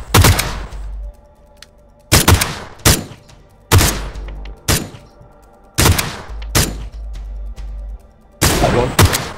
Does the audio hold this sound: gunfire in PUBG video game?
yes